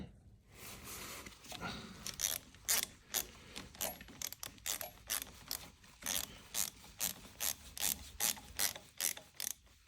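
Ratchet wrench clicking in steady repeated bursts while tightening rocker box bolts on an Indian PP100 motorcycle engine, close and fairly loud, with no talk.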